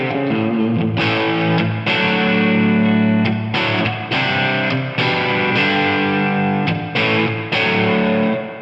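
Electric guitar playing chords through a reverb set with a very long decay and a high wet mix, loud and sustained, each strum washing into a thick tail that blends into the next.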